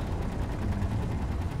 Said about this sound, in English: I just hear gunfire hitting my armor.